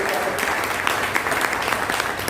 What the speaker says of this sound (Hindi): एक बार जोरदार तालियां बता दें